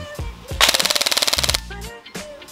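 A G&G L85 A2 ETU EBB airsoft rifle on a fully charged 11.1 V battery fires one loud, rapid full-auto burst of roughly a second, close up, with mechanical clicks just before and after.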